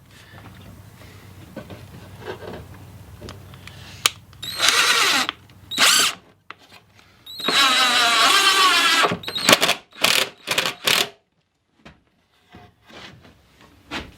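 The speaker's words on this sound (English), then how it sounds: "we're going to go ahead and install 2 screws just to hold it in place" A power drill drives two screws into a wooden shelf inside a drill press storage cabinet, giving loud whirring bursts with short pauses between runs and quieter handling knocks and clatter before and after.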